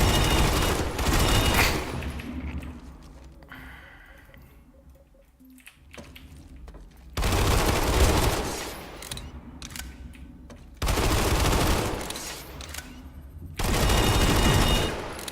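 TR pistol fire in the video game PlanetSide 2: loud bursts of rapid shots come in three clusters separated by quieter gaps, close and punchy, with no talk.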